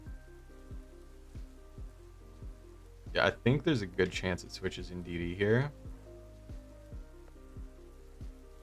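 Rain falls as weather in a Pokémon VGC battle video game, a soft steady patter with regular light ticks, while someone talks briefly over the middle of it.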